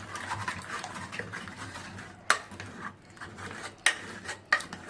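Cooked dal mashed with a wooden dal masher in a pot, giving a soft continuous rubbing and scraping with a few sharp knocks against the vessel, close and fairly quiet, without speech.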